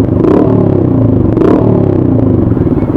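Vegaforce FI motorcycle fitted with an SC Project exhaust revs loud and close, a continuous throaty roar that swells twice with throttle blips.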